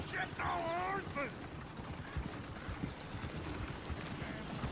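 Horses' hooves clip-clop beside a runaway coach, a steady clatter under noisy commotion with shouting voices and a brief whinny near the start.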